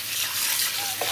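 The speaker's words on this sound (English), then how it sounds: "we're rinsing the fish thoroughly" Running tap water splashes over a fish being rinsed, a brief steady hiss of flowing water close by.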